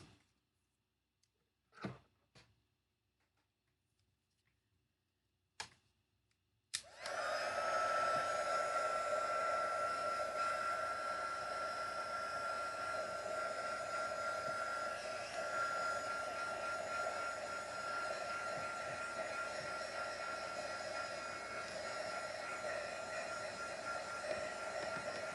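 Hair dryer blowing steadily to dry spiral-dyed fabric still damp from glue, a loud continuous whir that starts after a few clicks and runs without a break.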